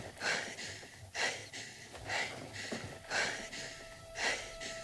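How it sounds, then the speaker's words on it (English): Heavy breathing opens the Star Wars Episode IX trailer: four or five slow, raspy inhales and exhales in a steady rhythm, close and moderately loud, with a faint tone briefly underneath. "the trailer opens up to some heavy breathing"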